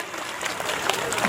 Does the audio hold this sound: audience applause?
yes